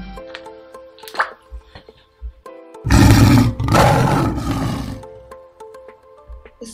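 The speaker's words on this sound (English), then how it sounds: "Lion." A lion animal toy lets out one loud, sustained roar up close, with soft clicks and light toy noises before and after.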